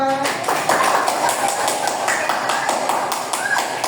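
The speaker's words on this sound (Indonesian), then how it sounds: "Oke, berikan tepuk tangan kita semua" A classroom of third-grade pupils applauds together, a dense, steady patter of many small hands clapping at close range for several seconds, with a few voices mixed in.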